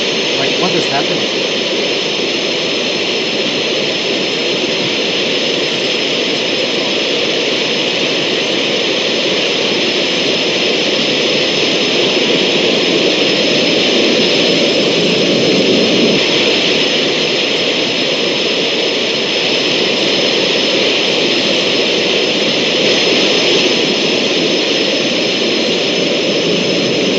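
Concorde jet engine roar in a flight simulator on a Bahrain to Singapore flight, a loud, steady, broadband drone lasting the whole stretch, with a person talking over it.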